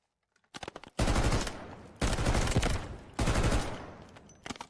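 Rapid bursts of automatic gunfire in the video game Delta Force, three long loud volleys with brief pauses between, preceded by a few scattered shots.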